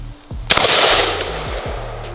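A shotgun blast fired at a Nikon camera outdoors, one loud sharp report followed by a long rumbling echo, with a few fainter thumps trailing after.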